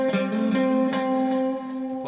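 An electric guitar lick in a worship style slides up the neck, a sustained note gliding upward and then ringing out with a few softer plucks, close and moderately loud with no talking.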